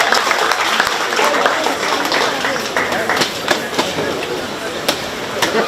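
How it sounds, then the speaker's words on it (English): A crowd gives a round of applause at a 4-H swine show at the 2022 Shelby County Fair, steady clapping with scattered sharp claps in a large space, with voices talking over it. "Let's give our royalty a nice big round of applause"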